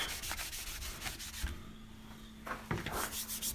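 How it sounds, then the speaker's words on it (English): Soft rubbing strokes of a towel across a sanded wooden guitar surface, close and quiet, in a few uneven passes with brief pauses. "Let's see what happens if I take my towel and wipe this off."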